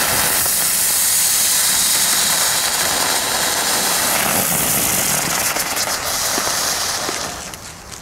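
Ground bloom fireworks from an Aldi assortment spin on the ground with a steady, loud rushing hiss that holds for about seven seconds, then thins and fades near the end.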